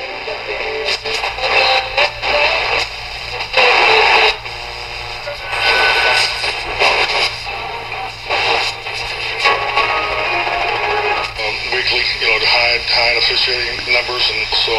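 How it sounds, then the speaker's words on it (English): A Retekess TR606 AM FM radio plays broadcast audio, with a voice coming through the small speaker over a faint steady hum and hiss, loud and continuous, shifting slightly as the station audio changes. "just kind of a demonstration of what the radio can do and what the audio sounds like"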